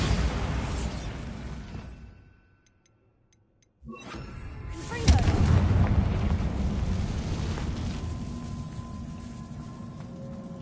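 A Bombarda blasting spell in the Hogwarts Legacy video game: after a brief near-silent pause, a sudden blast erupts, swelling into a loud rumbling roar with debris-like noise that slowly fades.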